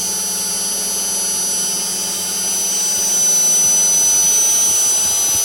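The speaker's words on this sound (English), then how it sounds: "So here we are sharpening that star corner." A machine grinds and sharpens the corner of a large end mill cutter, its spindle around 30,000 RPM, giving a steady, loud high-pitched whine with a grinding hiss that swells slightly toward the end.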